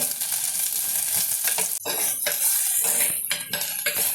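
Ginger and green chillies sautéing in a pan for okra kadhi give a steady close sizzle, with a utensil scraping and stirring through it and brief clinks of metal.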